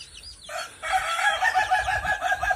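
Ayam ketawa, the Indonesian laughing chicken rooster, crows in a long, rapidly pulsing, cackling call after a brief opening note, close and moderately loud, with no talking.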